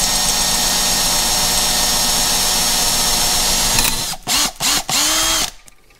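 A power drill whirs steadily as it drives a 1/4-20 screw into the metal-stitched top cover of a Minneapolis-Moline 445 prototype tractor, then stops in three short bursts of tightening before it falls quiet.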